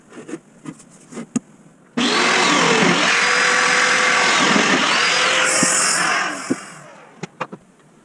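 A power tool cuts into a wooden leg for a DIY dining table, a loud, sustained whining buzz lasting about four seconds. Scattered knocks and clicks come before and after the cut.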